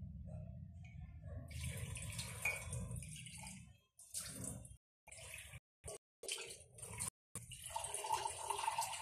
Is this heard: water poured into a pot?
yes